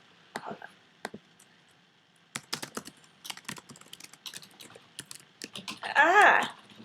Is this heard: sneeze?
no